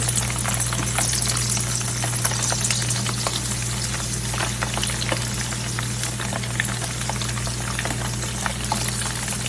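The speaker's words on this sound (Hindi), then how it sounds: "इस तरीके से जब आप पनीर को फ्राई करें तो आप कोशिश करें कि इसी तरह जो है पैन जो है हमेशा खुला लेना चाहिए" Paneer cubes fry in oil in an open pan, giving a dense, steady sizzle with crackling pops over a constant low hum, loud and unbroken with no voices.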